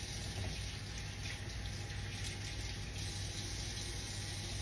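Steady tap water runs and splashes in a sink while eggs are washed by hand, a continuous close hiss with no talking throughout.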